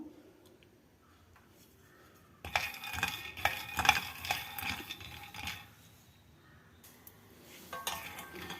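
Peanuts are dry-roasted and stirred in a pan on low heat, the nuts rattling and scraping against the metal in quiet bursts, loudest for a few seconds midway, then sparser clinks.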